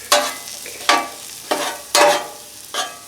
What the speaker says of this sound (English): I'm going to go ahead and get all the veggies cooked up.